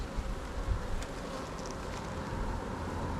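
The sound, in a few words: honeybees buzzing in a hive in winter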